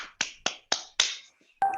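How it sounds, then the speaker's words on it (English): Five sharp, well-spaced claps ring out one after another at a training session, crisp and fairly close, with a brief quiet gap before the last, and no voices over them. "Everybody give a big clap for Vedant for the active participation"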